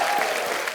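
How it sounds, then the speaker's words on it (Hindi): A studio audience applauds warmly to welcome a guest on a comedy talk show, dense steady clapping filling the short moment without a break. "बहुत बहुत स्वागत है राजू भाई के लिए, जोरदार तालियां।"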